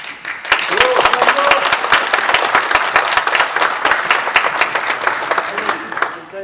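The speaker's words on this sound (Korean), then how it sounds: "김주환 장로님을 박수로 추대하고 동의하셨고요." An assembly of a Seoul presbytery applauds to elect an elder as moderator, a loud, close burst of many hands clapping that runs thick and steady, with scattered voices mixed in.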